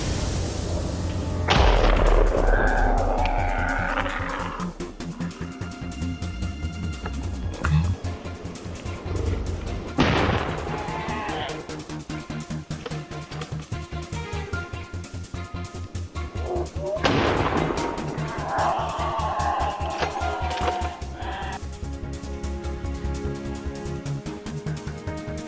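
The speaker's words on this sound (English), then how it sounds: "The recent shots threw the area into chaos." Gunshots while hunting wild boars on a hilltop, three heavy booming blasts spaced several seconds apart over a low rumbling background, each fading slowly.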